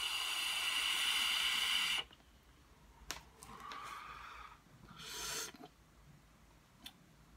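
A vape puff on an e-cigarette fitted with fresh cotton and 20/80 liquid, 80% glycerin: a loud, steady airy hiss for about two seconds cuts off sharply, then softer breathy rushes and a couple of faint clicks follow.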